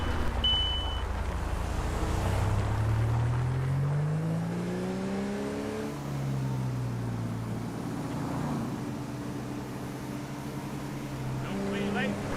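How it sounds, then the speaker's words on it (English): A car passes along the road in GTA 5, its engine note sweeping up and then falling as it goes by, with further engine hum afterward while someone talks over it. "Wait for this car to pass me."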